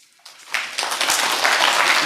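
Applause breaks out in a council chamber during a regular council meeting, starting from near quiet and swelling within a second into sustained clapping from the audience that holds steady to the end.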